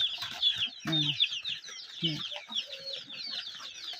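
Free-range backyard chickens almost a month old cluck and peep continuously at close range, with a busy chirping chorus and a few louder clucks throughout.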